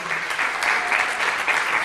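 Audience at a women architects' conference applauding a speaker's introduction, a dense, even burst of clapping from a seated crowd, short and steady.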